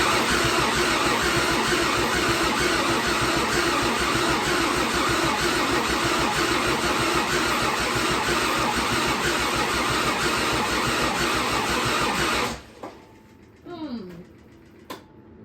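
A turbo diesel Land Cruiser engine cranks over and over with a fast, rhythmic, loud starter churn that fails to catch, then stops abruptly, leaving quiet with a few faint clanks.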